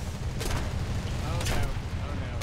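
Aircraft gunners in War Thunder fire at an enemy plane: dense, rumbling bursts of gunfire over steady engine roar, with a voice talking over them.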